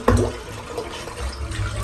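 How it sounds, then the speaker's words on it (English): A bathroom tap runs into a sink during a wet shave, a soft continuous splashing and trickle of water filling the basin, fairly close with no voices. "Just going to rinse the soap out now while I'm sort of filling the sink up."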